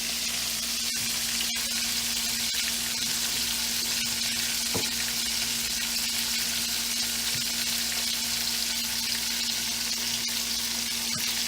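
Chicken livers fry in a pan for a Jamaican dinner, a constant loud sizzling hiss with a few sharp ticks and light stirring knocks, close up and uninterrupted by speech.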